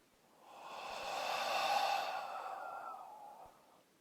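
A long, soft exhalation through the mouth during a yoga flow, swelling and fading over a few seconds, close and breathy with no talk.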